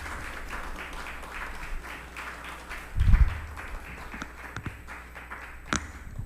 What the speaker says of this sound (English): Please give Michael Lund a bigger round of applause